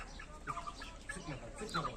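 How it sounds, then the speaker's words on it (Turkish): Chickens on a farm cluck in short nervous bursts, stressed and agitated, several birds calling close by in a quiet, low-level barn ambience. "Tavuklar birazcık stres yapmışlar."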